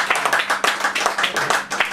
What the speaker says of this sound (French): vraiment un tonnerre d'applaudissements pour lui